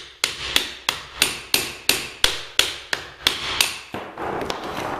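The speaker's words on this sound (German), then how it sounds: "Dafür nehme ich meinen Hammer und Meißel." Hammer striking a chisel to knock material out of a drilled hole for a switch box in a wall, about eleven sharp, evenly spaced metallic blows close by, the last ones fading into scraping rubble.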